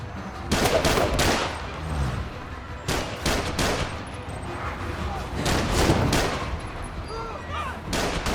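Heavy, continuous gunfire fills a Marvel's Spider-Man: Miles Morales fight scene, dense rattling bursts and loud shots layered over game noise, with voices shouting throughout.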